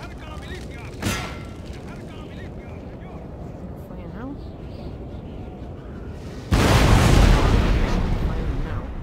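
Battlefield gunfire in the video game Napoleon Total War, a sharp early report then a loud sustained roar of massed musket and artillery volleys near the end, over low background noise.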